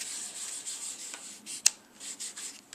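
Viva Decor metallic stamp paint is rubbed onto a die cut with a fingertip, making soft, intermittent dry rubbing strokes and one sharp little tap, close and quiet with no voices.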